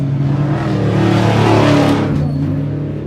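A 1994 Jeep Cherokee stock race truck roars at high revs in a desert off-road race in Powell, Wyoming, its engine steady and loud, swelling briefly as it passes.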